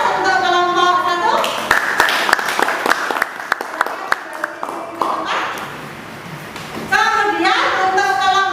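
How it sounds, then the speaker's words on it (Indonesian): Classroom applause for a group presentation: a crowd of students claps in a dense, sustained burst, loud and close, with brief talk before and after. "Kita beri aplaus untuk kelompok 1."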